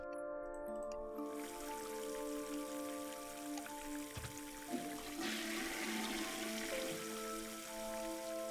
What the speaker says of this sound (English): if we flush the toilet while the sink is running?